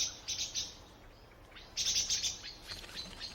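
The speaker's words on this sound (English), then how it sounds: "Song thrushes and mistle thrushes rush to gobble up the nutritious fruit." Thrushes, song thrushes and mistle thrushes, call in autumn yew woods in Ireland, with bursts of bright chirping and short song phrases, moderately close, over a quiet woodland background.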